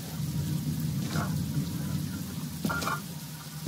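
Rain falls steadily in the video game The Walking Dead: Michonne, a constant hiss of rain with a low rumble beneath and a couple of brief splashes or thuds, no voices.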